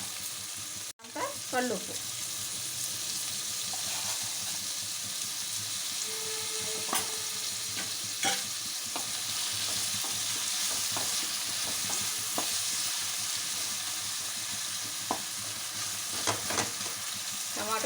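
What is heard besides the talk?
mixed vegetables frying in oil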